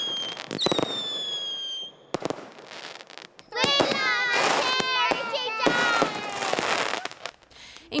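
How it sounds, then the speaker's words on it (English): Fireworks crack and pop in rapid bursts at a Territory Day celebration in Australia's Northern Territory, with whistling shells rising and several sharp bangs, loud and close, amid faint crowd noise. "tens of thousands of Territorians letting loose, firing off their fireworks."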